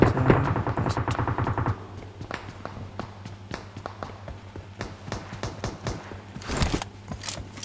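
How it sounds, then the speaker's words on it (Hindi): Gunfire in the video game PUBG: a rapid burst of automatic fire opens, then scattered single shots and footsteps follow, with a louder blast near the end and no talk. "इधर से फायर की आवाज़ आ रही है।"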